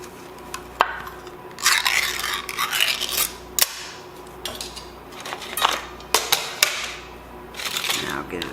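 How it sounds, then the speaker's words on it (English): A Spam can is opened on a kitchen counter: scraping metal rasps, a sharp pull-tab pop, and clanks and tapping of the tin, with sporadic bursts of handling noise. "we'll open our Spam can"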